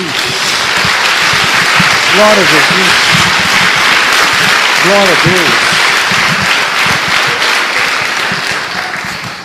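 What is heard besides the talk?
applause in church for Jesus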